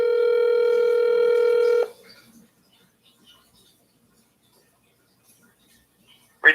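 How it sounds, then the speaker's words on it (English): Steady telephone line tone heard while a hospital call is being transferred, holding for about two seconds before cutting off into near silence with faint clicks and a short click at the very end. "Wait while I transfer your call."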